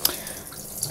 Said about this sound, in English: And then I'm going to refill it with water